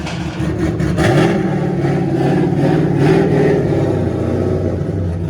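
An older BMW M3 drift car at the Emirates Drift Championship in Abu Dhabi revs loudly and close, its engine note rising and wavering continuously with no talk over it.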